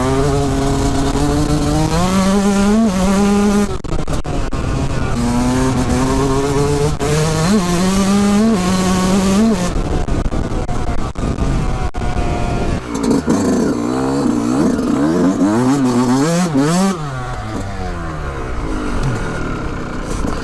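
A 2020 Yamaha YZ 125 two-stroke motocross bike screams through repeated rising and falling revs, loud and close, with rapid gear changes before the pitch drops and climbs again near the end.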